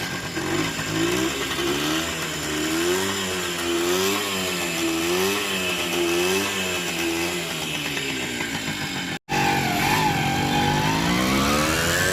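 A two-stroke Honda motorcycle engine running on LPG revs up and down in steady waves, loud and close, with a brief cut near the end before the engine roars on.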